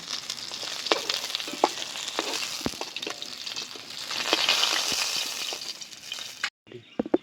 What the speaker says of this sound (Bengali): মাছ আমার ভাজা হয়ে গেছে। মাছগুলো এখন আমি তুলে নেব।